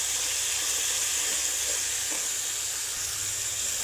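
Spices sizzle steadily in a hot pan with salt for a Bangladeshi beef bhuna, a continuous bright frying hiss with faint stirring scrapes, close and even throughout.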